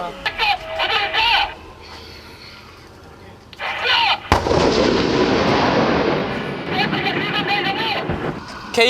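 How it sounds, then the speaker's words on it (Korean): A K1A1 main battle tank cannon fires with one sudden loud blast partway through, followed by a long rumbling roar and decay, with speech before and after the shot. "K1A1 전차는 기동 중에도 또 정지간에도 사격이 자유로워"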